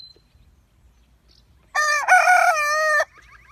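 A rooster crows once, loud and close, a single sustained cock-a-doodle-doo of about a second and a half against a quiet background.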